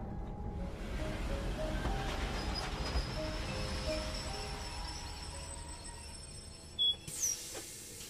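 A train pulls into a station in Incheon, its wheels rumbling and whining steadily with a faint squeal, then a brief clatter near the end.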